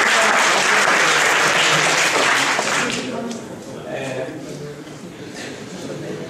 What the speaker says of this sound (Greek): ας χειροκροτήσουμε